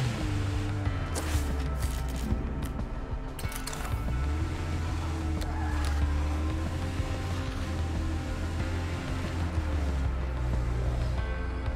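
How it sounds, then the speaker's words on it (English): A car drives in the survival video game State of Decay 2, a steady low engine drone with shifting tones running continuously at even loudness, no talk heard. "I'm pretty sure we're not allowed to drive on the sidewalk like this."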